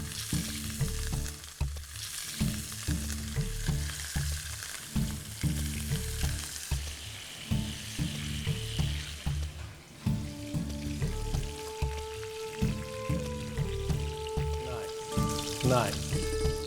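Pieces of rohu fish for an Odia curry frying in a pan, a loud, dense sizzle with crackling spatter that runs the whole time, joined late by a faint tonal hum.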